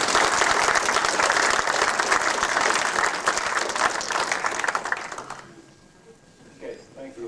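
A group of people is met with loud, dense applause that keeps up steadily for about five seconds and then drops off quickly, leaving a quiet room with a few faint stray sounds.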